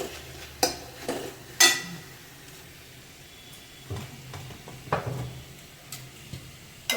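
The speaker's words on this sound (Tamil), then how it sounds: "இப்போ உப்பு மிளகாத்தூள் மஞ்சத்தூள்லாம் போட்டுட வேண்டியதான் வதங்கி வதங்கிச்சான்னு பார்ப்போம் தக்காளியில் கொஞ்சம் வதங்கணும்" Soft sizzling of tomatoes sautéing in a pan with several sharp scraping stirs of a utensil against metal, irregularly spaced, close by, no talking.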